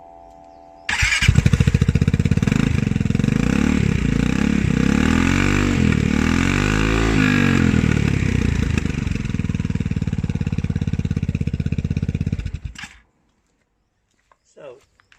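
A Royal Alloy GP300 scooter with a Scorpion exhaust, baffle fitted, starts up close by and runs loud and steady for about twelve seconds, with slight rises in revs, then cuts off into near silence.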